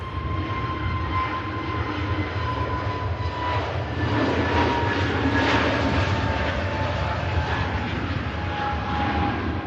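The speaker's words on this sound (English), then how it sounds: "We have to pan round quick to catch the Qatar touchdown." A Qatar Airways airliner touches down at Manchester Airport, a steady, loud broadband jet roar that swells slightly midway with faint tonal whines over a low rumble, continuous throughout with no talking.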